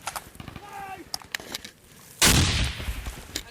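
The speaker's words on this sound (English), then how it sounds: "Good grenade." A grenade explosion goes off as a sudden loud burst partway through, then a rushing, debris-filled rumble. Scattered gunfire comes before the blast and a voice speaks briefly.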